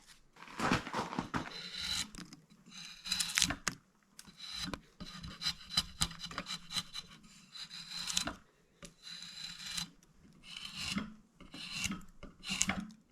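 A wooden hammer handle is shaved down with a rasp to fit the head, heard as close, rhythmic scraping strokes in uneven bursts with short pauses between them.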